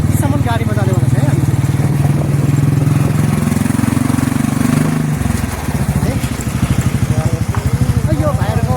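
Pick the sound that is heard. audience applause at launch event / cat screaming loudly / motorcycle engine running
motorcycle engine running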